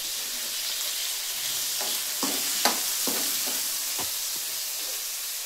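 Tomatoes hit a hot frying pan for fish curry, giving a steady loud sizzle and hiss with a few scattered clinks and stirring scrapes, no voices.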